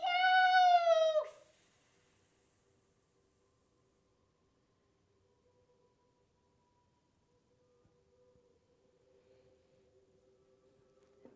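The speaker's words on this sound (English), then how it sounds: "I think I can start to hear that cat." A single loud, drawn-out cat meow at the start, followed by near silence with a faint hum.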